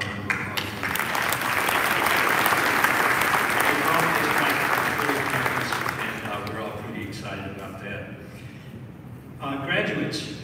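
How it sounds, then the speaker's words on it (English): Audience applause at a college commencement ceremony, a large hall of clapping that swells and holds steady for several seconds before gradually thinning out, with a brief renewed burst near the end. "How about a round of applause?"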